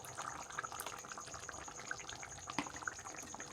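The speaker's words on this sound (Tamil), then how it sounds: "புளி கரைச்சி ஊற்றிக்கலாம்." Dissolved tamarind water being poured into a thick, simmering dried fish curry, a soft continuous splashing trickle with faint bubbling, quiet and close.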